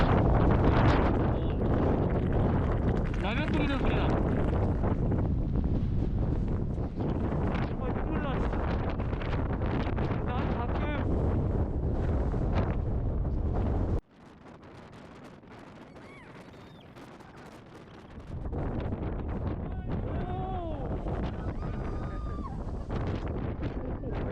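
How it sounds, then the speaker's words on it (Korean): Strong wind in Iceland buffets the microphone with a loud, continuous roar that drops abruptly for a few seconds before surging back, and a voice speaks faintly beneath it. "남미에서 겪었던 바람 그 세기랑 거의 똑같은데? 더 센 거 같기도 하고."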